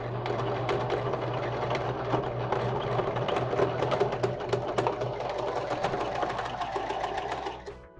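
A sewing machine stitches a fabric face mask with elastic, running as a loud, continuous mechanical whir with rapid needle chatter for several seconds before slowing at the end.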